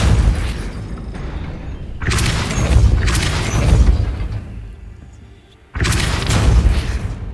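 Depulso force spell blasts go off in Hogwarts Legacy, three or four loud booming bursts with rumbling tails, separated by brief quieter gaps.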